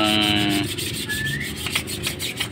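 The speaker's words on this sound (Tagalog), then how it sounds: "So nililinis na lang para pagpasok namin is smooth din dun sa bearing, hindi sasabit." Short scraping rub on an engine head part being cleaned to fit a bearing, a steady gritty friction stroke up close, with a brief thin squeak in the middle.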